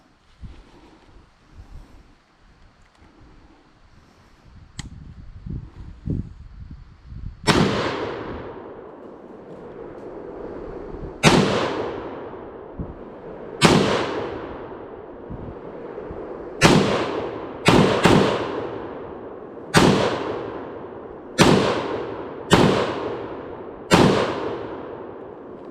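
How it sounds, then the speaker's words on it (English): Loud .308 shots from a SIG SG751 SAPR Swiss Arms precision rifle at an outdoor range, about nine sharp single reports spaced a second or two apart, with quieter handling noise and wind before the first shot. "The SG751, it's called a SAPR, Swiss Arms Precision Rifle. That one's loud. 308."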